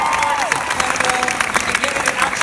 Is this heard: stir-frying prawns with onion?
no